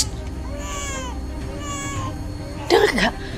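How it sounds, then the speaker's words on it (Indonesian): A baby cries faintly in a dramatized scene: short, wavering wails repeat twice, and then a louder voice cuts in near the end. "Dengar nggak? Ada suara bayi."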